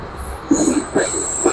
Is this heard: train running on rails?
yes